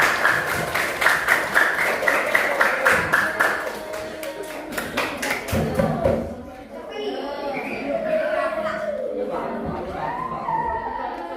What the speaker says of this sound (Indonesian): Tepuk tangan buat bagian.